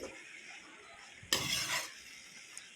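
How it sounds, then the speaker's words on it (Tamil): Kerala avial of coconut and vegetables gets one quick stir in a pan: a single short scrape-and-rustle burst in the middle of an otherwise quiet kitchen, followed by a faint tap. "ஒரு கிளறி நல்லா மிக்ஸ் பண்ணி விட்டுட்டு"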